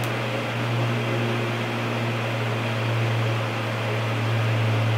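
A hot air rework station blows at 450°C with 80% airflow while removing a port from a Nintendo Switch board, producing a steady, loud whooshing hiss with a constant low hum throughout.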